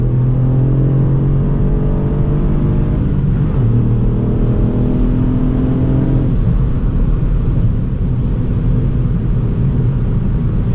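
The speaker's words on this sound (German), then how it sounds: "So, dann machen wir mal im Normalmodus einen Kickdown." 2022 Ford Fiesta ST with its 200 PS engine on a kickdown in normal mode, giving a muffled, rising engine drone with gear-change steps under steady road rumble heard from inside the cabin.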